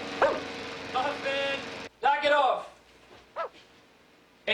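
A hound barks in a few sharp bursts and yips at close range, with pauses between them, alongside people talking.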